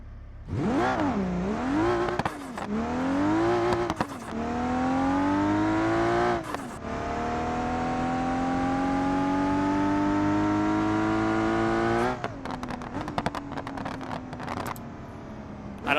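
A car launches with nitrous in BeamNG.Drive, its engine revving and climbing in pitch through several gear changes, with a long sustained pull before the tone drops off near the end.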